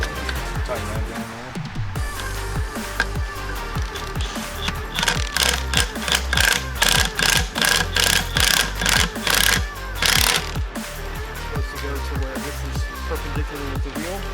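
BeadBuster XB-550 bead breaker being tightened down on a scrap wheel, a busy run of metallic ratcheting clicks and clanks, loud and close, with heavier mechanical rattling in the middle stretch.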